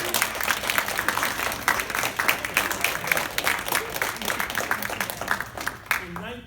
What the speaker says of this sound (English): a round of applause for all you great people